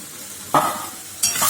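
Spices with turmeric and salt being stirred in a frying pan, a spoon scraping through twice with brief sizzling bursts over a steady low frying hiss, close and fairly loud, no talk.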